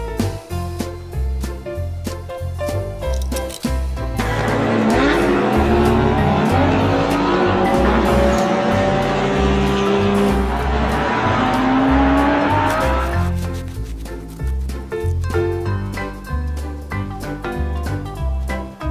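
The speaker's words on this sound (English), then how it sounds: "Orange racing car." An orange toy racing car plays engine roars and screeching tire squeals over a steady music-like backing, loud and continuous for about nineteen seconds with a dense skidding stretch in the middle, no speech heard.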